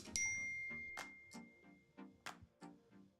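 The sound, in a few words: text message notification dings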